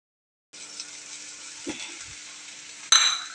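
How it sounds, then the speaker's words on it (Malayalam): Cooked, salted rice is stirred and turned with grated coconut in a pan for upma, giving soft scraping and sizzling sounds with a sharper metallic scrape near the end. "ഇനി നന്നായി ഇളക്കി മറിക്കി ചോറിൻ്റെ കൂടെ."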